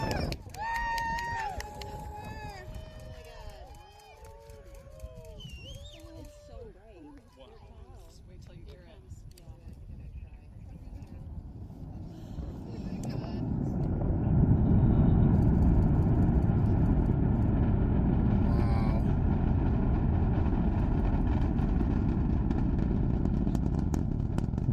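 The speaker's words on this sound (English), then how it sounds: "That's the sound of Europa Clipper launching into space" The Europa Clipper spacecraft launches on October 14, 2024. Excited voices and cheers come first, then a deep, broad rocket rumble swells in and holds steady and loud, heard from a distance.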